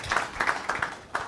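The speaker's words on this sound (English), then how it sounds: "Let's clap for his contribution" A small audience at a diaspora returnees panel discussion claps briefly for a panelist, a few scattered, uneven bursts of hand claps heard close and moderately loud.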